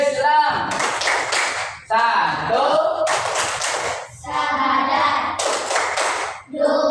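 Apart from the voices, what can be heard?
children clapping the tepuk rukun Islam clap chant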